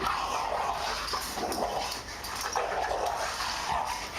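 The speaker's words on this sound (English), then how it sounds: "there's a point where the girl dog yelps" Two dogs play roughly together, with a female dog letting out yelps; a busy, continuous wash of growls, whimpers and yips runs close and fairly loud throughout, with no talking.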